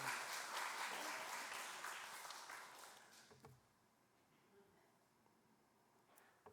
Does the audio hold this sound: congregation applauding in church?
yes